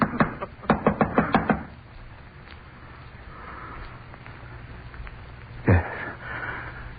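Knocking on a door in a radio drama: a quick run of about six firm raps, then a quiet room tone and a single dull thump later on.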